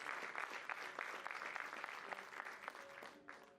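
A church congregation applauds during a sermon, distinct claps in an uneven, lively rhythm, quiet and distant, with a voice briefly heard near the end.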